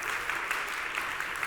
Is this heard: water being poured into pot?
no